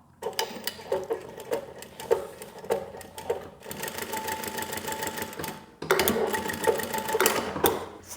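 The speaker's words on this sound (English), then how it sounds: "all I've got here is 2 layers of upholstery fabric, which you've been watching me sew so far." An industrial walking foot sewing machine, the Model 1903SX, stitching through two layers of upholstery fabric, running in loud rapid mechanical bursts with brief pauses between runs and no voices.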